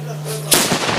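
A single loud gunshot from a period firearm bursts out at a historical siege reenactment weekend at Sárospatak, following a steady low hum, with a sharp onset and a brief rumbling decay.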